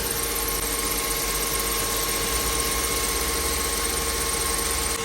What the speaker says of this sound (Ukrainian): Я завів автомобіль і чуємо піск.